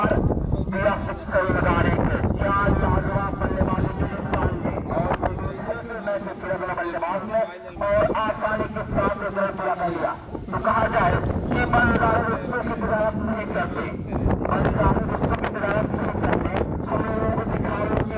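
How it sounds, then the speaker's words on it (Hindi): Strong wind buffets the microphone at an outdoor village cricket tournament match, a constant roaring rumble throughout while a commentator keeps talking over it. "बहुत तेज हवा चल रही है।"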